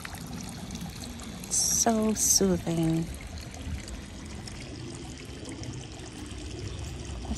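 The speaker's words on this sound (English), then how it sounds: "I just love the sound of the water when I walk through the garden." Soft, steady trickle of a garden fountain running throughout, with a person speaking briefly over it partway through.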